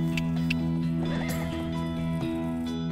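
A black horse from the Zorro TV show neighs loudly in a long whinny over steady clip-clopping hooves, with a musical score beneath.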